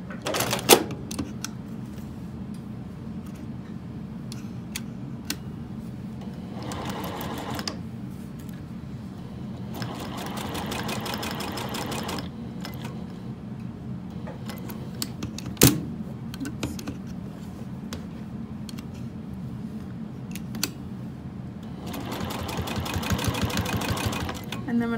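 Short bursts of a sewing machine back-stitching a fabric wallet seam, quick rattling runs separated by pauses and small clicks, heard close with quiet room tone between.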